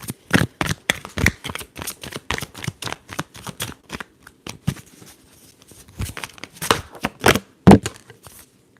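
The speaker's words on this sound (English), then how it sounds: "So let's shuffle again and let's see." Tarot cards are shuffled up close in a series of crisp riffling bursts, a steady papery rhythm with brief pauses, ending in a few louder snaps.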